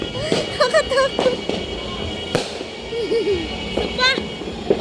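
New Year firecrackers and fireworks pop and crackle at a distance, sharp scattered bangs over a noisy background as people talk and shout nearby.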